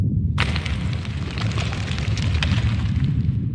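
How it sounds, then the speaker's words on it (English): Triggering a hazard in the Minecraft Decked Out 2 dungeon sets off a loud, sudden rumble that continues with dense, crackling debris falling throughout, a heavy low roar with scattered sharp bits on top. "Basically rumbling and debris falling."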